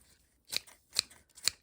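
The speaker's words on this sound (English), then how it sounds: "Just cut the bok choy up into bite-sized pieces." Food scissors snip through baby bok choy in three crisp, evenly spaced cuts, each a short sharp crunch, close and clear in an otherwise quiet kitchen.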